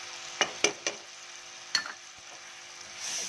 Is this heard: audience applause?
no